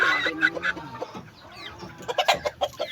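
A high-action black rooster clucks nearby in a rapid run of short, loud calls, then pauses before a second burst of clucking, with other farm fowl sounds faintly behind.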